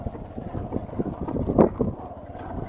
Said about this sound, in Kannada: ಗಾಡಿ ಗುದ್ದಾಡ್ಕೋತ ಹೊಂಟತ್ರಿ